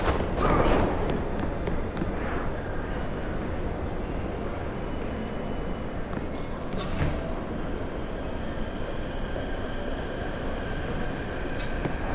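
A subway train in a metro station in the noir game Liberated, a continuous loud rumble and roar of rolling wheels and carriages with occasional squeals and clanks, no speech.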